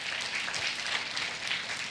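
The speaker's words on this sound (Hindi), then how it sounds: "भाई महर्षि कणाद के लिए ताली बजा दो" A lecture audience claps together in a steady, dense wash of applause heard from a short distance, sustained evenly without a break.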